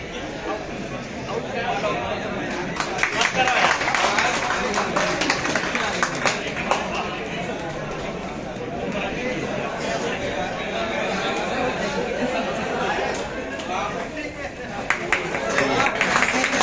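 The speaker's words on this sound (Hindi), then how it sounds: "तालियां बजती रहनी चाहिए।" Audience applause at a lecture at a coaching institute for civil-services (IAS) exam students in Prayagraj, held up for nearly 17 seconds as a steady, dense wash of many hands clapping, with scattered crowd chatter mixed in.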